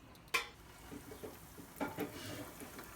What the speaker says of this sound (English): Nice sizzle going on